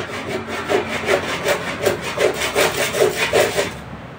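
Handsaw cutting through a piece of handmade wood with steady back-and-forth strokes, roughly a dozen rasping passes in an even rhythm, close and fairly loud, with no voices.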